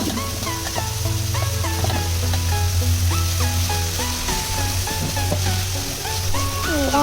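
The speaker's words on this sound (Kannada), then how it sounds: "ನಂತರ ಸ್ವಲ್ಪ ಕರಿಬೇವು ಮತ್ತು ಶೇಂಗಾನ ಹಾಕಿ ಎಣ್ಣೆಲಿ" Onions, curry leaves and peanuts fry in oil with a steady, close hiss, partly masked by louder tonal sounds laid over it and a low hum beneath.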